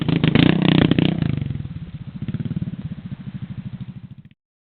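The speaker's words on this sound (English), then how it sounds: "the SRX600 roars to life with a single-cylinder setup that reminds riders of classic Thumpers from yesteryear" A Yamaha SRX600 single-cylinder 600cc thumper engine runs close by, starting with a loud throaty burst and then settling into a steady, pulsing thump that cuts off abruptly.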